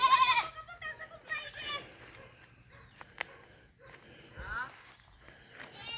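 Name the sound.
goats bleating on a farm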